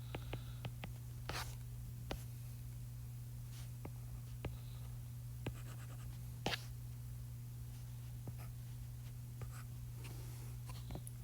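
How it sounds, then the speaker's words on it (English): Pen strokes scratch faintly and steadily on paper as hexagons are drawn by hand for a chemistry diagram, with soft intermittent taps over a low steady hum and no talking. "I'm really bad at drawing hexagons"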